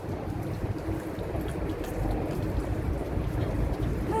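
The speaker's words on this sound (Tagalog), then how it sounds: "it's so windy today, guys" Wind gusts roar outdoors among tall city buildings, a loud, continuous buffeting rush that swells slightly midway, with no voices.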